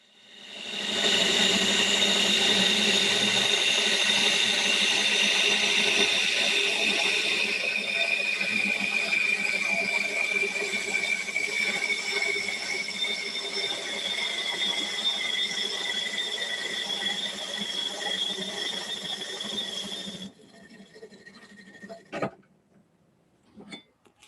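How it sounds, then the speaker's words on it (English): A Forstner bit boring about 1 3/4 inches deep into a wooden travel cup spinning on a lathe, giving a loud, steady grinding whine with chatter for about twenty seconds before it stops abruptly, leaving faint knocks. "The advantage of having the Forstner bit in this case is there's a lot of chatter when you're out at this end of the tool"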